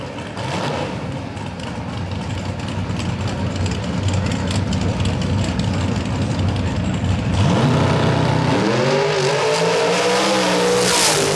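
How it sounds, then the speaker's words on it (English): Drag radial race car accelerating hard down a drag strip, a loud continuous engine roar that builds and shifts in pitch toward the end, with no talk over it. "A drag racer right there."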